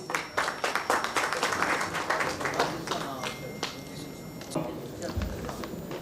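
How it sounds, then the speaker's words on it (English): Audience clapping at a tech summit's startup pitch session, fairly close and uneven, with distinct individual claps standing out over a broader wash, thinning toward the end. "Let's welcome them with a huge round of applause."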